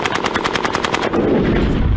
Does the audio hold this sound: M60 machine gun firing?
yes